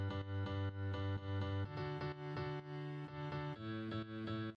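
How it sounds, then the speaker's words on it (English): Bright, high-register piano layer from a dance production, playing rhythmic repeated chord stabs with a light effected edge, loud and alone. "The layers here include a high piano layer."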